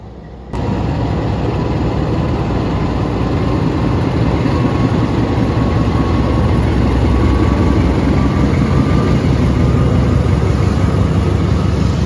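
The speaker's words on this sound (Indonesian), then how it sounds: "Oke, kereta api Malabar siap diberangkatkan." A departing Malabar passenger train's engine drones with a steady, loud rumble, a faint high whine and constant mechanical noise throughout.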